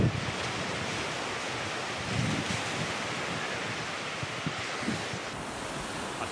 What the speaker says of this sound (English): so I found the main, what looks to be the main beach